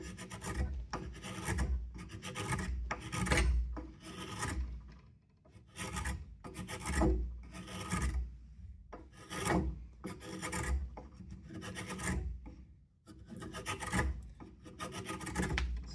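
A spokeshave shaving wood along a curve with the grain, repeated rasping strokes about once per second with short pauses between, close and clear with no talk.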